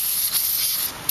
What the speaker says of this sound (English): when you're going to take all your brakes apart, you could use some brake cleaner